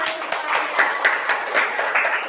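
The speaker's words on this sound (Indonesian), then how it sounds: "Oke, tepuk tangan." A small group in a classroom claps briefly in a quick, uneven patter, fairly close, with a faint murmur of voices underneath.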